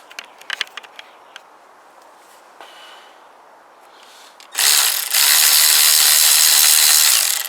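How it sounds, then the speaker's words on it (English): A ratchet works on a bolt on a Kawasaki GPZ500S engine with a quick run of sharp close clicks, then quieter handling noises, before a loud, steady rushing noise takes over for the last few seconds. "let us remove the one remaining bolt that it does have, if we can."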